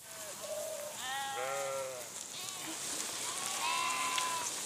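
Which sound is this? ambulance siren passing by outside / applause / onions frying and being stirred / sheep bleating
sheep bleating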